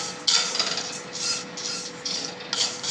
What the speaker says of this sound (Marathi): हे आता मी शेवया भाजून घेते.